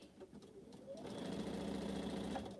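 A sewing machine stitches pieces of a scrap quilt, starting slowly and settling into a fast, even hum with a rapid needle rhythm that stays close and steady.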